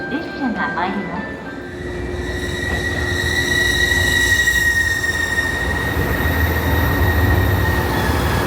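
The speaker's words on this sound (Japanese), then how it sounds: "列車が参ります。" A train pulls into a Japanese station platform with a swelling rumble and high metallic wheel squeal, steady tones ringing over it, while a platform announcement voice speaks near the start.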